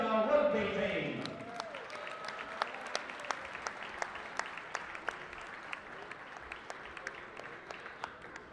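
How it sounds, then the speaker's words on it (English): A crowd at a rugby game applauds the 2018 Gonzaga rugby team after a brief amplified announcer's voice, the clapping fading quickly into sparse, scattered individual claps that continue at a steady pace. "please give one more round of applause"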